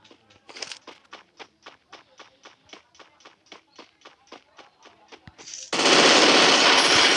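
Rapid bursts of automatic gunfire from a shooter video game, a steady run of about twenty evenly spaced shots close and loud, ending in a sustained roaring blast of noise.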